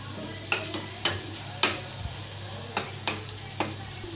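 Tomatoes with salt frying in a pan, a steady close sizzle broken by about eight sharp scraping or stirring knocks of a utensil against the pan.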